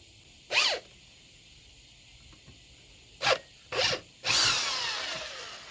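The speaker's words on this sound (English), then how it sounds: "thought I'm just drilling and tapping them out. So 7/16 drill bit and 1/4 inch pipe tap" Power drill with a 7/16 bit drilling holes for a 1/4 inch pipe tap in a vehicle during airbag replacement: four short whirring bursts, the last longest and trailing off.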